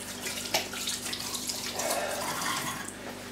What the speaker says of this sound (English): I'm going to have to keep rinsing my hands.